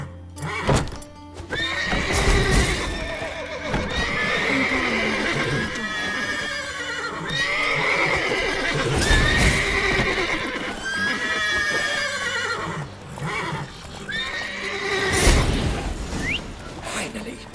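Several horses neighing and whinnying repeatedly in a stable in The Witcher 3, loud shrill calls recurring every few seconds with hoof clops and thumps between them.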